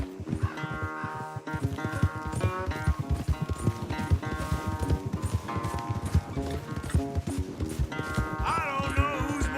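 Horses galloping in a race in the Western video game Red Dead Redemption 2, a rapid continuous clip-clop of hooves with a score playing over it, close and steady throughout.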